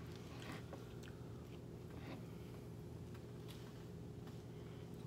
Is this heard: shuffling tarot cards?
no